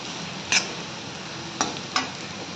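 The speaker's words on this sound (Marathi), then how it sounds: "त्यामध्ये मिक्स करणार आहे मी हे कूट शेंगदाण्याचं" Crushed peanut and chilli being stirred into cooked potato in a pan, a steady low sizzle with three brief scraping clicks of the spoon.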